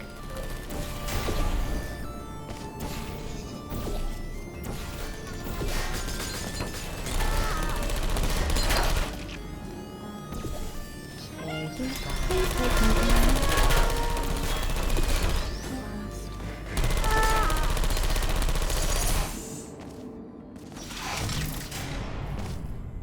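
Portal 2 turrets fire bullets in steady rattling bursts amid mechanical whirring, clanks and crashes, continuous and fairly loud over a busy game soundscape, with little speech.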